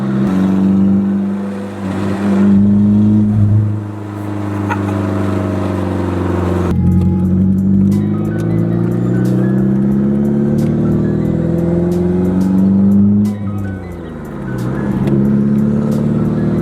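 SR20-swapped Nissan 240SX with a 5-speed manual, heard from inside as the engine revs hard through several rising pulls broken by brief gear-change dips, loud and droning.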